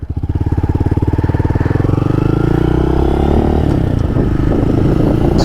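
A 2022 Honda Monkey fitted with a Termignoni exhaust accelerating, the small single-cylinder engine thumping in rapid even pulses that climb in pitch as it revs up, loud and close, then settling into a rougher steady drone.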